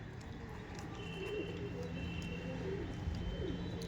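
Giribaz pigeons coo repeatedly in a loft, soft throaty calls layered over a steady background hum, with faint rustling and wing movement nearby.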